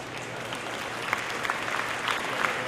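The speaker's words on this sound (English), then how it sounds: "We should give them a good round of applause." An audience at a cattle show claps steadily, a dense patter of many hands with a few sharper claps standing out, sustained and moderately loud.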